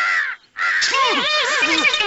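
A crow caws repeatedly, loud and close, in a quick series of harsh calls after a brief pause, with no talk over it.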